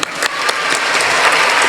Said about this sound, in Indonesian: Mau dibaca, kasih tepuk tangan dulu.